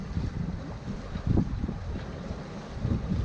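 Sailboat running under full sail in a 17 to 18 knot breeze off the Embiez islands, with steady wind buffeting the microphone and water rushing along the hull, a few louder gusts rising through the rumble.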